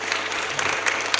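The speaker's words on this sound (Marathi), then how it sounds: "सर्व कमिटी मंडळीसाठी एकदा जोरात टाळी वाजवायची" A brief burst of crowd clapping rises from the audience at a village kirtan gathering, a dense patter of many hands heard nearby without speech.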